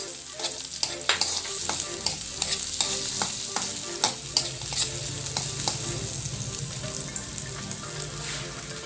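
Chopped onion frying in oil in a pan for a pineapple fish escabeche, a steady close sizzle broken by frequent sharp scraping and clinking as a utensil stirs it.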